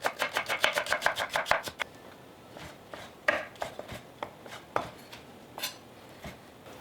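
A knife slicing white onion and rough-chopping shiitake mushrooms on a board, with a quick run of rhythmic cuts at first, then slower scattered chops and taps, close and alone.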